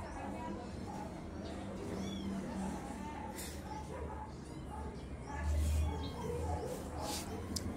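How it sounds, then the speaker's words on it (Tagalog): Several cats meowing in short, scattered cries at a Gapan street spot, mixed with background chatter and people talking nearby. "Daming pusa dito guys, oh."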